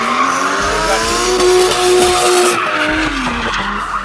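Loud, sustained tire squeal from a car burnout, a screeching tone wavering in pitch over a roaring engine, continuous throughout.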